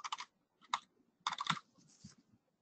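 Short bursts of typing on a computer keyboard in an office GIS software demonstration, three quick clusters of close, crisp key clicks separated by brief pauses, with no talk.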